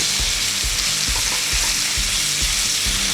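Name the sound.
thin ribeye steak frying in a pan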